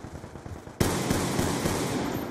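Gunfire in the shooter game Call of Duty Black Ops 2 starts quietly, then an automatic weapon cuts in abruptly. It fires a loud, close, sustained burst of rapid shots that keeps going to the end.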